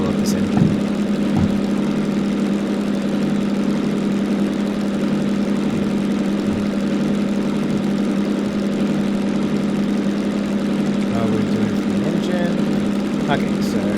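The DM2N diesel locomotive in Derail Valley runs at a steady, droning idle with a constant low hum and slight vibration, and a few small clicks stand out above it.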